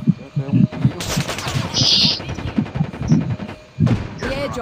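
Rapid bursts of gunfire in the game CrossFire crackle between excited talking, with a sharp shot or two standing out over the chatter.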